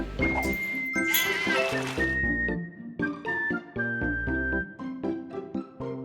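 Cartoonish sheep bleats from the puzzle video game Divide by Sheep, several wavering baas over a bouncy, plucky game music loop with a sustained whistle-like tone, fairly close and clear.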